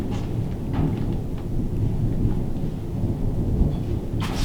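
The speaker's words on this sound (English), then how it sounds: "you don't like thunder" Thunder rumbles through a storm near an off-grid log cabin, a continuous low roar sustained over several seconds with rain faintly beneath and no voices.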